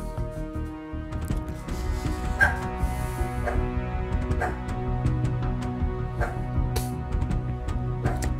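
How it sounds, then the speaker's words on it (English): A household dog barks loudly and persistently, a string of sharp, evenly spaced yips and barks over steady background game audio from a World of Warships match, with occasional whimpering between barks. "That's my dog barking in the background."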